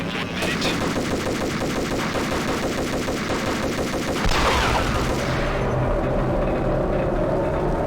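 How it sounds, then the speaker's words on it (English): Rapid gunfire and explosive bursts from a grenade launcher in the Max Payne 3 video game, a dense loud barrage for several seconds, then a heavy blast that rumbles and fades. "So I let off a grenade launcher and didn't choose to aim high."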